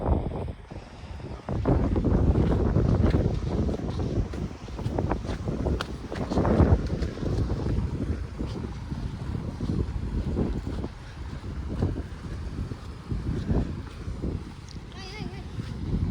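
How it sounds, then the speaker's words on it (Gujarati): Gusty beach wind buffets the microphone in a steady, loud rumble, with people talking underneath. "ઠંડો પવન."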